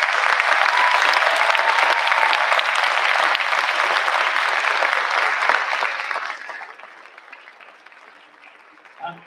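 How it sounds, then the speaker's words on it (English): Audience at a district honor music festival breaks into sustained applause after a performance, loud dense clapping for about six seconds before tapering off, with a brief voice at the very end. "Let's give them one more round of applause."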